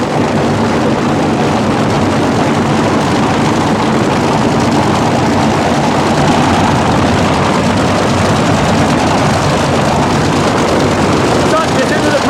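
Top Fuel dragsters idle at the starting line of a 1987 drag race, a loud, continuous, rumbling engine roar filling the whole stretch, with a voice faintly beneath it.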